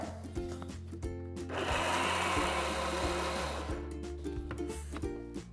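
Mixer grinder whirring as it blends green chilies, salt, black salt, chaat masala and cold water into chutney, a loud continuous motor roar building up after short start-stop pulses, then easing off.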